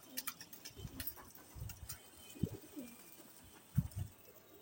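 Several Sapchila pigeons coo softly in a pigeon market, low murmuring coos with a few louder bursts spread across the clip, alongside light background clatter and no speech.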